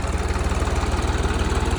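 A tractor engine runs while ridging soil onto Santana potato rows in a field, a steady throbbing mid-low drone with a fast regular pulse, close and continuous with no voices.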